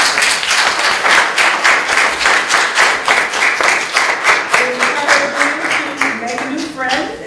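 Workshop audience at the EMSDC 2015 BOC event applauding presenters, a steady wash of clapping throughout, close and fairly loud, with some talk and tonal sounds emerging near the end.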